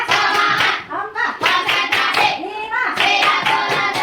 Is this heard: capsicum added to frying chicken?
no